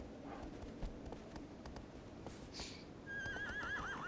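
A horse in the video game Shadow of the Colossus whinnies loudly near the end with a wavering, descending neigh as it reaches water, after some muffled movement and ambient game noise.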